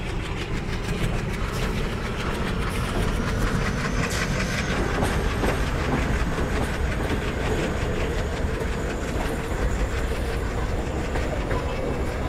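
A train on the Central Railway route in Train Simulator rolls steadily on its rails, with a continuous rumble, rhythmic clickety-clack of wheels and a faint high squeal running through the clip.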